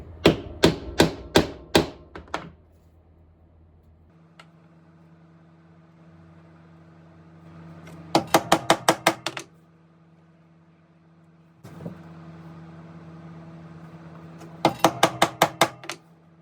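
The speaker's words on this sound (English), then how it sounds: "I like to use this style punch when I'm punching my belt holes." Leather belt holes being punched with a hole punch: three clusters of sharp, close, rapid taps about five strikes each, separated by quiet stretches with a faint low hum.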